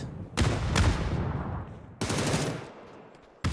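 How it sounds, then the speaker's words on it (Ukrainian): Bursts of automatic gunfire in a PUBG battle on the Miramar desert map, two long rattling volleys with a brief third burst at the end, loud and close with no talk over them. "Це вже з іншої сторони йде стрілянина."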